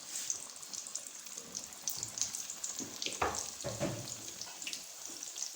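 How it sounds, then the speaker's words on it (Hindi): Chicken and vegetable samosas dropped into hot cooking oil, giving a soft, continuous sizzle with a few brief bubbling bursts, fairly quiet and close, with a single short spoken word. "कुकिंग ऑयल हमारा गर्म हो गया है। अब हम इसमें समोसे डालेंगे इस तरह से।"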